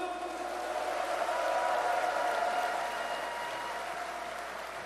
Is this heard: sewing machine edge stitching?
no